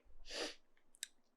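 A single short sneeze bursts out close by, followed by a faint click.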